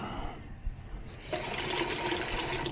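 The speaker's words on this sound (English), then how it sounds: "I could use a little bit more water in there." Water pouring into a cooking pot for chicken tumanella: a steady splashing stream starts after a quiet moment and runs on continuously, fairly faint, with no talking.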